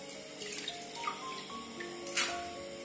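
Ragi vermicelli is swirled and rinsed by hand in a bowl of water, giving soft sloshing and trickling with a brief louder splash near the end, fairly quiet and with no talking.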